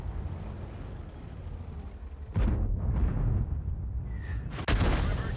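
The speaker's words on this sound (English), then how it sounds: "Hello, artillery. Yes, yes, I know. Yes, you exist, I know." Artillery fire in the World of Tanks video game, with two loud, booming broadband blasts about two seconds apart over a steady rumble of wind and engine noise.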